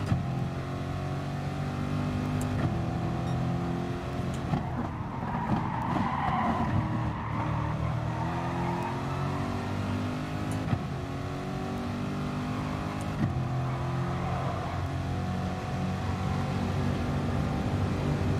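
Race cars in GT Sport on a track, with a continuous droning engine note, shifting revs and tire skids. The mix is steady and moderately quiet, with no talking.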